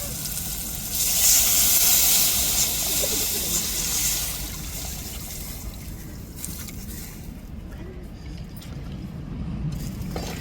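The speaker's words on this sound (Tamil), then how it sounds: "நம்ம கரைச்சி வச்சுருக்கிற புளியை சேர்த்துக்கிருவோம்" Tamarind water poured into a simmering fish curry, setting off a loud, close sizzling hiss that swells early and then settles into a steady bubbling fry.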